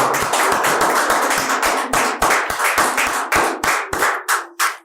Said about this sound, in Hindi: स्वागत में करो, जोरदार ताली हो जाए आप।